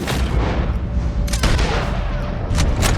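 Gunfire in the video game Red Dead Redemption 2 during a fight against O'Driscoll gang members: several loud, close booming shots ring out over dense noise.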